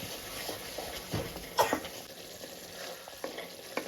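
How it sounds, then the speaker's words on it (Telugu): Tamarind mixture boiling in a pan for tempered leftover-rice popannam gives a faint, steady bubbling hiss, broken by a brief clatter of stirring around the middle. "చింతపండు అనేది బాగా మరుగుతుందండి"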